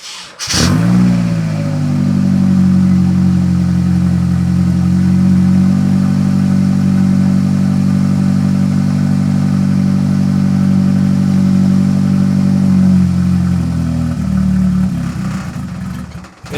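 A Nissan S14 fitted with a fully welded, turned-down stainless steel exhaust idles loud and close, a deep steady drone that starts abruptly and holds for about twelve seconds before tapering off.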